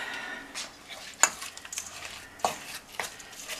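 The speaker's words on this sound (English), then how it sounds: "Mix it all together" A trout burger mixture is being mixed with breadcrumbs, soft scattered stirring and scraping with a few sharp clinks of utensil against bowl, close and quiet.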